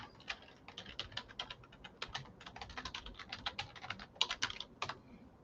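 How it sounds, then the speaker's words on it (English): Steady typing on a computer keyboard, a rapid run of close, crisp key clicks with small pauses, heard alone without talk. "I'll type it in."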